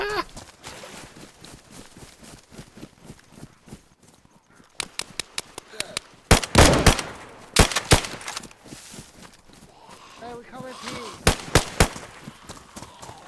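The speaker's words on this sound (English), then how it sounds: "I shot him in the belly, I'm sorry." Gunfire in the video game DayZ: loud, sharp cracks, first a single shot then rapid bursts of several shots in quick succession, standing out over softer game noise and footsteps, with talk heard among them.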